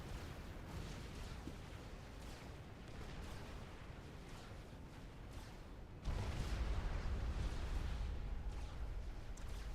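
Energy generators detonate in the real-time strategy game Supreme Commander 2, a dense rumbling wall of blasts that jumps louder partway through, steady and continuous with no talk.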